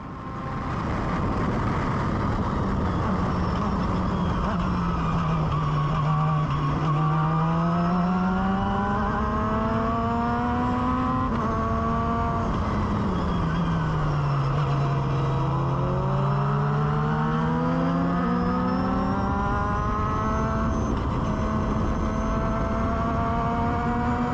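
Pro Formula Mazda open-wheel race car at speed on the first lap at Road America, heading into the carousel. Its engine drones steadily and loudly throughout, dipping and climbing in pitch through gear changes, with no talking.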